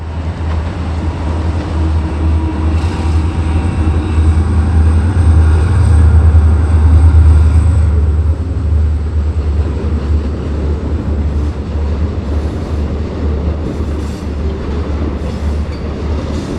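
Reading & Northern freight train rolling downhill toward Pittston, a deep continuous rumble of engines and wagons that swells then eases, heard from trackside with no speech.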